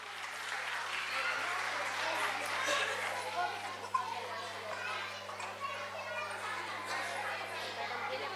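Applause rises from the audience at a school annual function, steady clapping mixed with children's chatter and shouts, sustained for several seconds at moderate volume.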